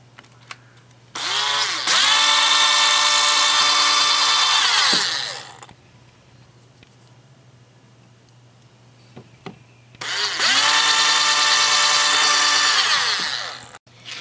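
Two bursts of a power drill boring pilot holes into pallet wood, each a few seconds of high steady whine that rises as the motor spins up and falls away, with a quiet pause between them.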